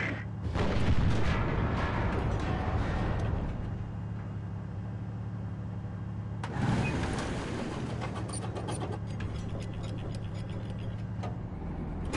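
Tank cannon shots in the War Thunder video game: a heavy blast near the start and another around the middle, each over a steady low engine rumble with clanking mechanical ticks.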